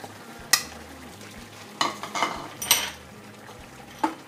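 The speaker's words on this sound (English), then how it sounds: "nicely mix all the ingredients" Spoon stirring butter and grated cheese into ema datshi in a pot, a few scattered scrapes and clinks against the metal with soft sizzling underneath.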